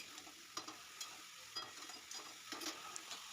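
Cut potatoes, carrots and eggplant fry in a pan with a quiet, continuous sizzle. Soft scraping stirs break in every half second or so, and no one talks.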